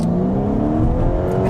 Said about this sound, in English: And we'll do a rolling acceleration here in sport mode.